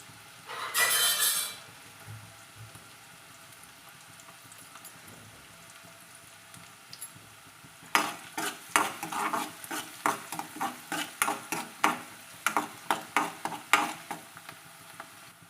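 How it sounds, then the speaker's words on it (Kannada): Chopped onion frying in a pan for Chinese-style Yippee instant noodles, with a soft steady sizzle and a quick burst of scraping early on, then a long run of rhythmic spatula strokes clattering against the pan. "ಉಳ್ಳಾಗಡ್ಡಿ ಸಣ್ಣ ಕಟ್ ಮಾಡಿ ಹಾಕ್ಕೊಂಡ್ವಿ ಒಂದು ಸ್ವಲ್ಪ ಕೆಂಪಗಾಗುವಂಗೆ ಬೇಯಿಸ್ಕೋಬೇಕ್ರಿ"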